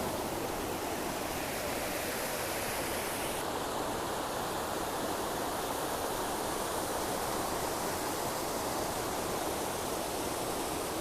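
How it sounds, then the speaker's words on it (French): Waterfall pouring over a limestone slab in the Dévoluy mountains, a dense, steady rushing hiss that holds unchanged from start to finish, with no voices. "C'est une cascade qui est sur le dalle de calcaire"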